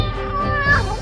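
One drawn-out cat meow rises and falls over about a second. It is close and fairly loud, and a little background voice may sit beneath it.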